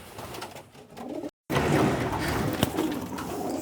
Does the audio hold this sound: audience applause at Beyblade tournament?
no